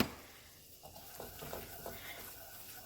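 Spices get stirred into enchilada sauce in a hot pan, with a quiet sizzle and a few soft, rhythmic scraping strokes close by.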